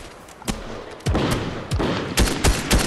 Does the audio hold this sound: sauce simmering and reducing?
no